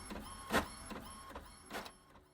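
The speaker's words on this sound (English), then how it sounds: "I heard the office printer whir to life." An office printer whirs into operation in a quiet room, with a few distinct mechanical surges separated by softer running between them, heard alone and at moderate volume.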